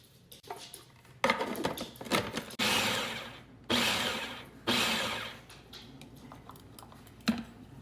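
A food processor pulses a chunky spice mixture for baklava with nutmeg, ground cloves and cardamom: several short bursts of whirring blade noise, each a second or so long with pauses between, nearby and fairly quiet, with no talking.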